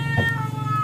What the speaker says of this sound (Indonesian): kucing ini ngopo ya ke mambeng ini baru mungkin kawin lho.